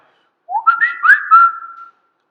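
A person whistles a short, rising and warbling bird-like call, imitating a magpie, clear and close with silence before and after.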